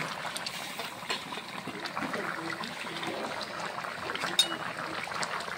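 Mutton curry simmers in a pot, a soft, steady bubbling and liquid wash running continuously at low level with faint kitchen clatter mixed in.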